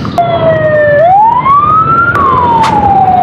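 A loud, close ambulance siren wails up and down in pitch, sweeping through its cycle.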